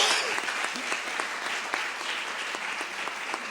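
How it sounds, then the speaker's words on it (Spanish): A church congregation claps loudly together in a sustained, even burst of applause that fills the sanctuary, holding steady throughout with no talk over it. "Denle una ofrenda de palmas fuerte al Señor."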